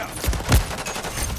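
Rapid automatic gunfire in Call of Duty: Modern Warfare III on the Scrapyard map, loud and dense bursts of shots over a short stretch, with no talk.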